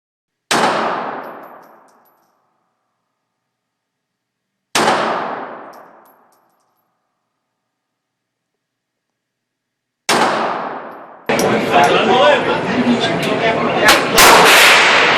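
A Walther PK380 pistol fires three loud, sharp single shots several seconds apart, each ringing out and decaying, followed by a noisy stretch of handling and clatter.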